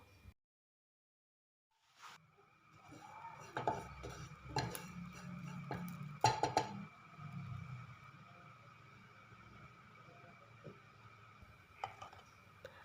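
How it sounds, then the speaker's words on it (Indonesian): Metal utensil scrapes and clinks against a pan while dry-roasting dried shrimp, with scattered rattling and stirring over a low sizzle, fairly close. "kita sangrai ebinya sampai teksturnya agak mengering"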